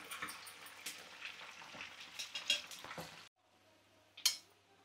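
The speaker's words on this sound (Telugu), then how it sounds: "ఇదిగోండి ఇంకా చికెన్ ముక్కలు వేగిపోయినాయి" Chicken pieces frying in hot oil for a Telugu chicken pickle give off a steady, busy sizzle with spoon stirs and pan clinks, then drop to a quieter hiss before a sharp clatter near the end.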